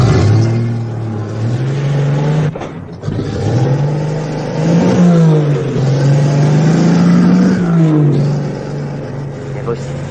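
A car engine drones and revs steadily on the streets of Sofia, its pitch rising and falling as it pulls away, loud and close, with people talking over it.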